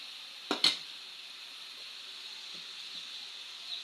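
Spices frying in hot oil in a pan, a steady soft sizzle running throughout with two brief louder crackles near the start and a few faint clinks.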